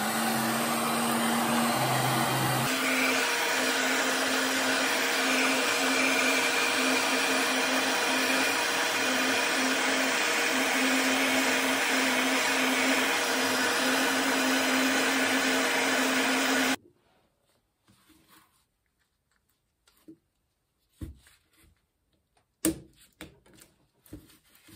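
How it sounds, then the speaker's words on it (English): A handheld heat gun blows hot air in a loud, steady, close whine with a constant tonal hum, running unbroken for about seventeen seconds before cutting off, followed by quiet scattered handling knocks. "So I've got a heat gun here."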